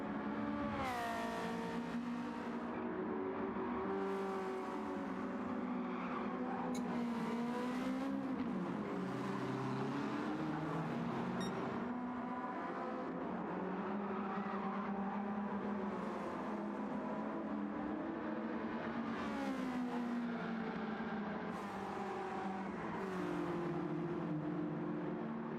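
Racing car engines rev and whine past one after another in a sim racing game, pitch rising and falling as they sweep by, with no talking.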